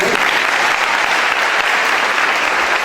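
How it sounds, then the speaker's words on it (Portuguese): A congregation at a church service claps steadily for a few seconds, a dense, even burst of applause with no voices over it. "Vamos aplaudir esse moço de Deus?"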